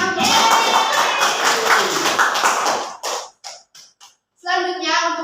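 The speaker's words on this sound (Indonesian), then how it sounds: "Beri tepuk tangannya" Classroom applause from students rings out briefly, a burst of clapping lasting a few seconds, followed by a few scattered claps and then voices speaking.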